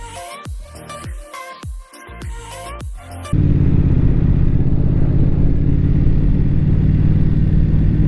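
A BMW motorcycle rides past on a mountain road at about 1,700 metres altitude, first heard as a varied mid-range engine note, then a steady loud low rumble close by for the last several seconds.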